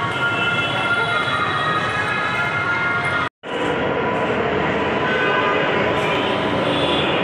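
Loud, continuous rumble of a metro train in motion, with steady mechanical hum and rattling, briefly cut off midway before resuming, heard aboard.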